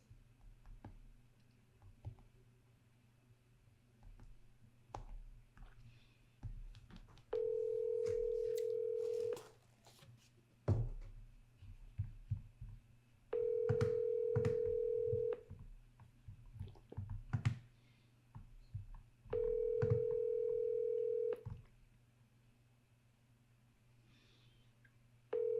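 An outgoing phone call to a real estate lead rings out unanswered: three long, loud ringback tones spaced several seconds apart, with soft clicks and faint handling noise between them.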